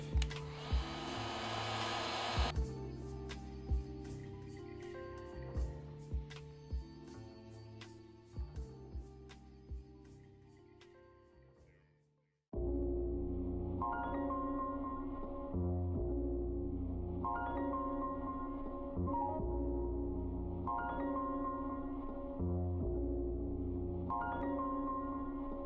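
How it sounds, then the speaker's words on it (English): A heat gun blows on the old adhesive of a JL Audio 13W7AE subwoofer's foam surround, making a steady airy whir. Halfway through the pitch drops and a fuller blowing hum takes over and keeps going. "Just getting some heat on it and pulling off this old adhesive"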